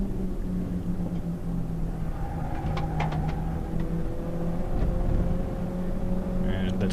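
Nissan Sentra race cars at a Hampton Downs endurance race: a steady engine drone with rising and falling revs as the cars brake into a turn, with a commentator talking over it.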